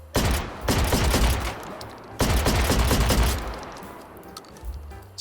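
The KWG-1 gun fires in the VR shooter H3VR, two loud sustained bursts of rapid shots at close range, each trailing off into a fading echo.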